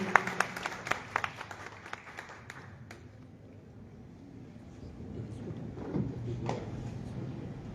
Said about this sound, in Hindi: जोरदार तालियां बच्चे के लिए।